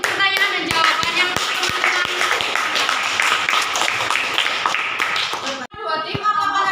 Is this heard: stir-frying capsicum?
no